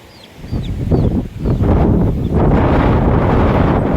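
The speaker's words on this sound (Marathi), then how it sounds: "वारा किती सुटलाय बापरे" Strong wind buffeting the microphone in a loud, steady roar, with a few faint bird chirps high above at the start.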